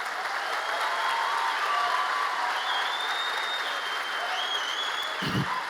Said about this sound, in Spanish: Dale mejor el aplauso al Señor